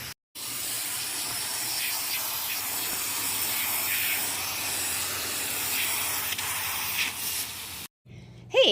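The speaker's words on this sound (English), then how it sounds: "I can actually spray them down right here, wash them right here" Steady, close hiss of a water spray hosing down van floor mats, running continuously for several seconds before cutting off abruptly, with a brief clatter afterward.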